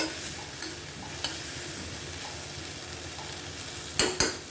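Spoon stirring sprouted moong bean sabji in oil in a pan, a soft steady scraping and faint sizzle, with two sharper clanks near the end and no talking.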